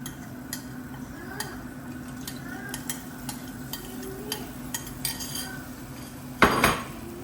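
Fish curry being stirred in a pot, with light intermittent clinks and taps of a spoon against the metal over a low background, one louder scrape near the end, close and without talk.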